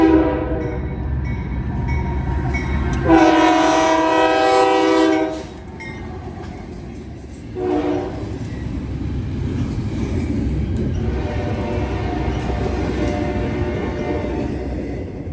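A short Norfolk Southern freight train rolls westbound at night, its horn sounding loudly for a couple of seconds, then again briefly. The horn sits over a steady rumble of wheels and cars that continues throughout.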